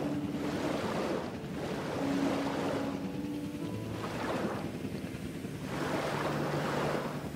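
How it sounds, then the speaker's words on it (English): Rushing water from a rocky river in the dinosaur-park video game Jurassic World Evolution 2, a continuous broad wash with slow swells, heard alone without speech. "Gonna make a nice rocky river for them."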